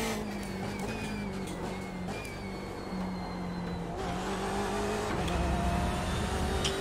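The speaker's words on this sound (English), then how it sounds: "Yeah, you can hear the traction control." BMW M8 race car engine in the iRacing game at Road America, with traction control cutting in as the engine note stutters and shifts under a constant loud drone of racing cars.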